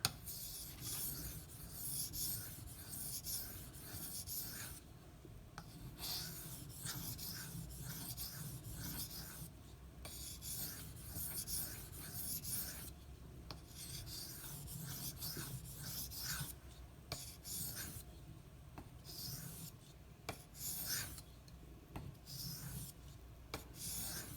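A knife is sharpened on a Shapton Kuromaku 1500 grit whetstone, giving close, continuous rasping strokes that repeat steadily with brief pauses between passes.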